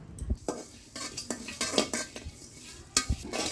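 Coriander seeds, cumin and a bay leaf dry-roast in a pan, stirred with a metal spoon: soft, irregular scrapes and clinks over a faint sizzle, fairly quiet.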